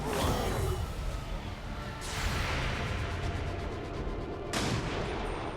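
A sniper rifle shot missing its target in an XCOM match comes with a heavy booming blast and a rushing, crashing tail, loud and close over constant game noise. A second blast follows a few seconds later.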